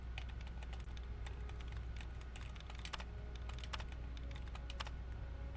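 Rapid clicky keyboard typing from terminal hacking in Fallout 3, a steady run of light keystrokes over a quiet electronic hum with no talk.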